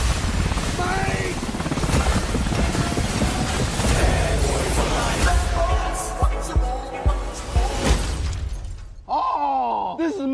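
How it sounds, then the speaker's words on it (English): Loud, chaotic game-trailer action with rotor-like mechanical roar, crashes and shattering debris, voices shouting over it, then a tonal swell near the end. "Where the hell are you getting all these helicopters?"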